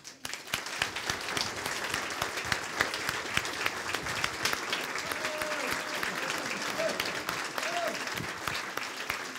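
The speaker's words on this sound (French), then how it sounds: "je voudrais qu'on les applaudisse très fort" Sustained applause from a sizable crowd at a company's 30th anniversary presentation, dense steady clapping filling the whole stretch with a few brief whistles or calls rising above it.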